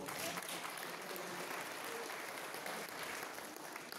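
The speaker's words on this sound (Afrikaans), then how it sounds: "Kom ons gee vir die baba 'n klap." An audience claps together steadily at a church service celebrating Christ's birth, with broadband applause sustained through the whole stretch and no talking over it.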